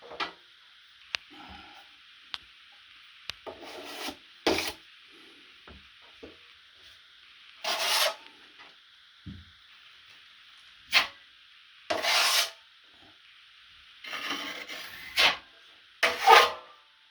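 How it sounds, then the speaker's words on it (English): Filler being spread over a drywall repair: soft, irregular scrapes and rubs from a putty knife, several short strokes separated by quiet gaps, close up with no talk. "Put a little filler in the middle."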